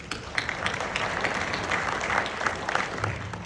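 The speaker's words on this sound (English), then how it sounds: "So let's give them a round of applause." An audience at a firefighter safety and health conference claps in a dense, even wash of applause that holds steady at moderate volume throughout.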